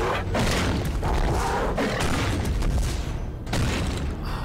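Bombs exploding in the video game Alice: Madness Returns, a continuous series of loud booming crashes with heavy low rumble, several strong blasts in succession.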